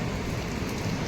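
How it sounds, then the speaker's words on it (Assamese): Steady rain pours by the sea on the Kerala coast near Varkala, a dense, continuous hiss of drops striking surfaces, loud and unbroken with no voices. "এতিয়া বৰষুণ দি আছে"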